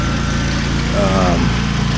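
Lawn mower engine running steadily at close range, a loud continuous drone with a brief shift in pitch partway through.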